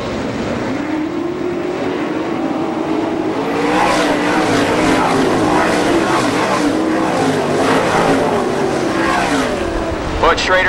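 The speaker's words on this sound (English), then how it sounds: "Butch Schrader jumps into the gas, takes the lead" Race cars roar around a dirt track in a B-main event, engines droning loudly and continuously with rising and falling passes as a driver accelerates into the lead, a commentator's voice faintly under the noise.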